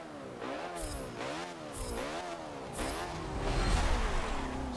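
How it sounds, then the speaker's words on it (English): A 1970 Alfa Romeo Montreal with a small-capacity V8, driven in Forza Motorsport 7, revs up and down in repeated rising and falling sweeps as it accelerates and shifts, steady and close, with no talking. "being quite a small cubic capacity V8, really doesn't sound like many V8s from that era"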